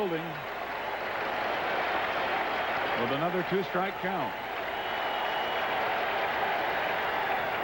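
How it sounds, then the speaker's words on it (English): Crowd at a 1984 Reds–Mets baseball game at a New York stadium roars steadily throughout as a two-strike count builds, a broadcast announcer talking over the loud, sustained cheering. "Cheer building"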